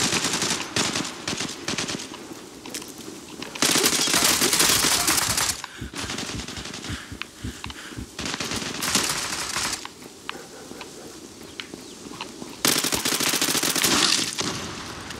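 Automatic gunfire in the online shooter Zula during a team deathmatch, loud sustained bursts of rapid shots repeating across the clip with brief gaps, close and dominant with no talking.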